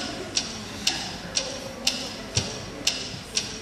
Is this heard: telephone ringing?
no